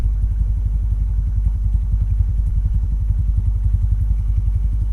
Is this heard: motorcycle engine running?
yes